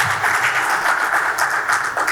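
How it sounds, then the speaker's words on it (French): A conference audience at an industry panel on the water economy claps steadily for about two seconds, a dense, even patter filling the hall with no voices over it. "sous vos applaudissements"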